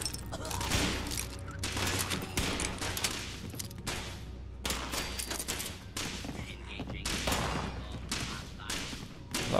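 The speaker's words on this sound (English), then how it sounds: "A lot of gunfire going on." Sustained gunfire rages through a Fallout 76 game session, with dense overlapping bursts and volleys of shots and thuds continuing loudly throughout, interspersed with other game noises.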